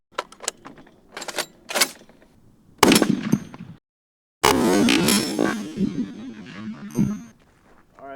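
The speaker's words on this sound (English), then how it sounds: "Let's see what happens when you shoot it with the brass round." A brass .50 BMG round strikes a giant steel kettlebell: a loud, sharp gunshot crack with a brief ring and echo follows a few faint clicks, then a second heavy blast with rumbling reverberation and a final sharp snap.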